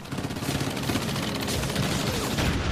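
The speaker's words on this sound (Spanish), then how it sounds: "las fuerzas especiales emitían el sonido de disparos a través de altavoces para simular un ataque aún mayor" Gunfire plays as a sound effect simulating a Normandy landing attack, a dense, continuous crackle of rapid shots with no pauses or voices.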